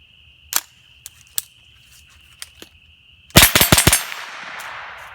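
A .22 rifle fitted with a CMMG conversion kit fires a few spaced single shots, then a quick string of close, sharp cracks echoing outdoors over a steady insect-like hum.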